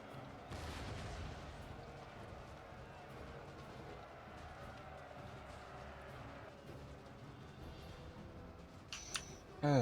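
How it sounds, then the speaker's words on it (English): Cannon fire from a battle in Empire: Total War, a dense, continuous rumble of booming shots and battlefield din that stays fairly steady, with a sharper burst near the end. "now get back onto generic cannonballs and just fire in a vaguely that way direction"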